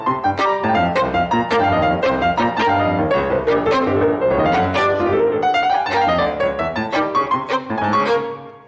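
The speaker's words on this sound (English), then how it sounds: "the violin has this second theme that's playing a counter melody to the orchestra" Violin carries a frantic, dance-like second theme as a counter melody against full orchestra in a Shostakovich violin concerto, dense and loud throughout with sharp accents, fading at the very end.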